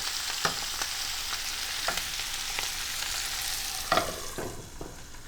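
Sardines frying with Indian spices in a covered pan, a constant hissing sizzle close by, marked by a few soft knocks and clatters, one louder cluster near the end, and no one talking.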